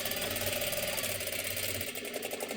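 A sewing machine stitches sari fabric with a rapid, steady mechanical chatter, close and continuous, its motor hum running evenly under the needle's rhythmic clatter.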